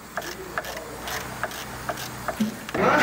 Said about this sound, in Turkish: Yeni motor kulağını sabitleme cıvatalarını 17 lokmayla sıkıyoruz.